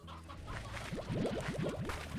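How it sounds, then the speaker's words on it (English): Chickens cluck on a chicken farm in the video game Slime Rancher, a quick run of rhythmic clucks rising over steady ambient game background. "Of course, I'm gonna have my chicken farm."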